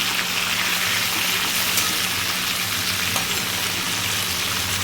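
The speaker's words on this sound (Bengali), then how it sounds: "মাছের মাথাটা এদিকে লাল লাল করে ভেজে নিচ্ছি" Dense, steady hissing and crackling of fish heads frying in oil, loud and continuous throughout.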